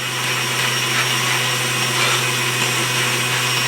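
An electric mixer whips egg whites toward stiff peaks, a continuous close motor whir with a steady hum underneath and no breaks.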